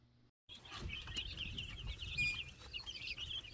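Red Ranger and Buff Orpington chicks kept in a bathtub cheep and peep continuously, a dense chorus of small high calls heard close up over a low background rumble.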